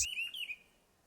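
A Hwamei, the Chinese songbird prized as an imported singing bird, gives a single quick whistled chirp lasting about half a second, faint and alone, then fades to quiet.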